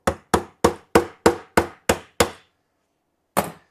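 A DeWalt oscillating multi-tool blade cuts through nails in wood, producing eight sharp, evenly spaced impact-like bursts in quick succession, then a pause and one more burst. Each is loud and close, with no talking.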